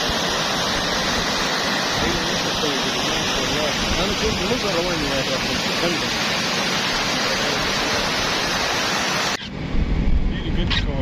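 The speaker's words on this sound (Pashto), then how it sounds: "دا دی اوس هم باران شروع دی" Heavy rain and rushing water roar at Khanozai Dam at night, a loud, unbroken wash of noise that cuts off abruptly near the end into a quieter, rumbling stretch.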